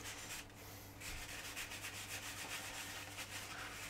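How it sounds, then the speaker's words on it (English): Cotton buds rub paint off the checker tread plate of a 1/48 scale U-boat model deck, a faint, close, repetitive scrubbing with short rhythmic strokes and no speech. "just a few cotton buds just for where we can't reach. And we're just rubbing it off the tops"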